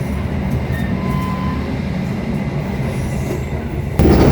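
Serayu passenger train pulling out of Cikampek station at night, a steady close rumble of wheels and carriages with faint squeals, rising louder near the end, no talking.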